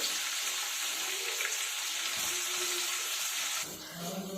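Finely chopped onions sizzle steadily in a pan with a broad hiss; the frying eases slightly near the end.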